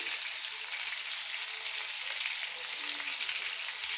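Bitter gourd coated in turmeric, chilli powder and salt fries in a pan, producing a constant, even hissing sizzle close by with no talk over it.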